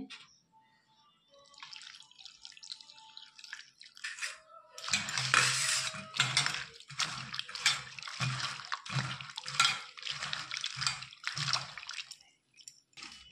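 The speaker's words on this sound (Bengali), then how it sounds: "এগুলোকে জল দিয়ে ভালো করে ধুয়ে নিচ্ছি। 2-3 বার ধরে ভালো করে ধুয়ে নেব চটকে।" Chopped banana stem is washed by hand in a bowl of water, giving a rhythmic run of close wet squelches and splashes that starts after a few quiet seconds and continues steadily.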